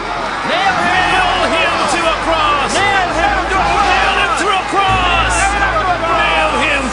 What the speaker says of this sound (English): But they kept shouting